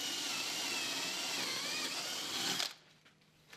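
A power drill bores a hole while fitting a bolt on a vertical panel saw, a steady whining motor hum for a few seconds that cuts off abruptly, leaving quiet room noise.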